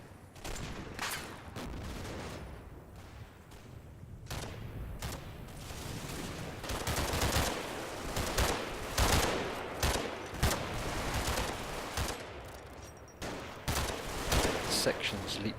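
Battlefield gunfire with machine guns, rapid bursts and scattered shots crackling throughout, some close and loud, others more distant, with a voice speaking intermittently over the fighting.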